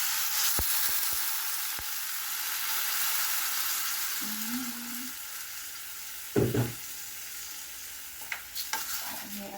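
Water splashed into a pan of sautéing mixed vegetables with shrimp for ginisang gulay, giving a steady background sizzle and hiss with a few sharper clattering stirs and spatters toward the end, no talking.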